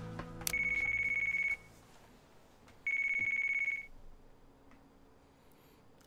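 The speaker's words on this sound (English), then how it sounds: "Another phone call." Two electronic ring bursts from a phone in the Yakuza Kiwami 2 video game, each about a second long and separated by a pause, clear over a faint background.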